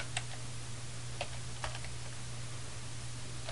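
Sparse, quiet taps on a computer keyboard, a few scattered keystrokes over a steady low hum with no talking.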